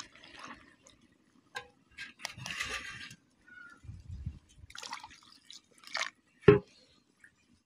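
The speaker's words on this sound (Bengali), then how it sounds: "এবার আমরা মাছগুলো ভালো করে ধুয়ে নিব।" Soaked, softened dried puti fish are washed by hand in water, with intermittent close splashes, drips and sloshing in irregular bursts and quiet gaps between them.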